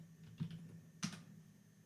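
Two quiet, separate keystroke taps on a computer keyboard while entering a password, faint and alone.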